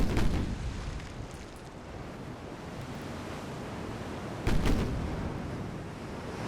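Naval gunfire from American warships in a video game: two deep booming salvos, one at the start and one midway, over a constant roar like wind and surf.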